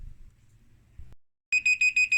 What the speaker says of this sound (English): see if this thing gives an alarm